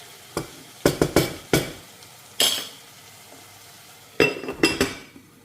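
Onions fry in a pan for a macaroni dish, heard as close, loud bursts of spoon scraping and clinking against the pan over a faint sizzle, coming in quick clusters with pauses between.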